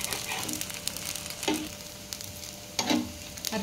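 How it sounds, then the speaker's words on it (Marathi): Thalipeeth, a crisp fasting flatbread, frying on a hot pan: a steady close sizzle with two louder crackling bursts partway through, no talking. "आता आपण थालीपीठ पलटी मारून घेऊ। आता दुसरी बाजू व्यवस्थित आपण शेकून घ्यायची आहे।"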